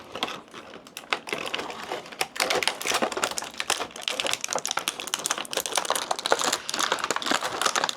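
Plastic packaging crackles and crinkles in dense, close, irregular bursts while a G.I. Joe Classified Zartan figure is unboxed.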